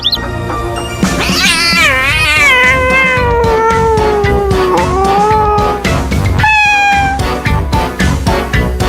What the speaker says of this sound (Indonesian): seekor kucing ragdoll marah mengamuk